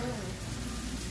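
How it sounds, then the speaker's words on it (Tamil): Rain pours down steadily outside a home kitchen, a dense, even hiss close by with a voice talking over it. "எப்படி மழை பெஞ்சிருக்குது பாருங்க"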